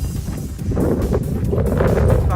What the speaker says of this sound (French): Il y a quand même pas mal de vent aujourd'hui.